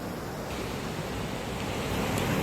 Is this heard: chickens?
no